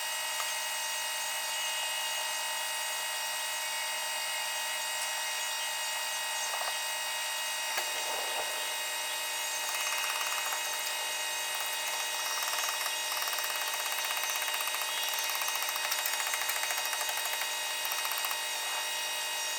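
A tractor-driven PTO brush mower whines at a high, steady pitch as it begins cutting through weedy wheat, a loud continuous mechanical drone with a brief dip partway through and no talking.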